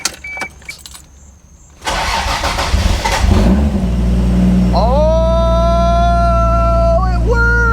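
A stock Toyota MK3 Supra running a standalone ECU cranks and fires into a loud, close idle, with a high whine rising and settling as the engine catches and runs steadily.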